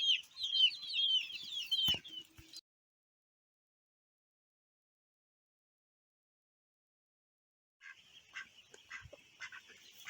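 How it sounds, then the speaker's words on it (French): Ducks in a backyard coop, a Muscovy duck and a male mallard, give a burst of raspy calls that stops abruptly, then quieter scattered calls resume after a long silence. "Et bien commençons par les deux adultes canards."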